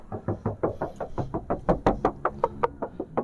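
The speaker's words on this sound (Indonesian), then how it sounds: "Nah, ini bodi bagian sebelah kiri, Om Salim ketokin dulu ya, dari depan sampai ke belakang." Knuckles rap steadily along the left-side steel body panels of a 2010 Mitsubishi Pajero Sport GLX 4x4, front to back, giving about twenty crisp, close hollow knocks at an even pace.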